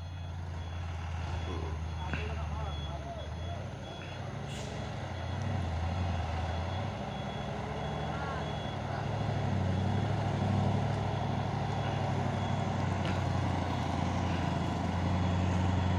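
Heavy trailer truck engine rumbling nearby at a low, steady drone, with faint background traffic and a few high beeps over it.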